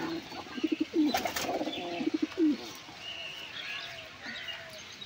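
A pigeon coos several times close by, soft throaty bursts in quick succession, followed by fainter chirps and quiet background noise.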